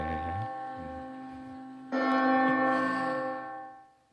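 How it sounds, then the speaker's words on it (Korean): A church bell rings out with a sustained metallic tone and long shimmering overtones. A second strike lands about halfway through, louder and brighter, then fades away. "종이 울립니다."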